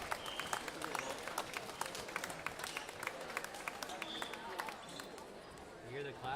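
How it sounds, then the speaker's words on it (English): Crowd clapping at a teen tournament playoff match, a steady patter of many hands heard from a distance, fairly soft and continuous, with faint voices murmuring underneath. "You hear the clapping."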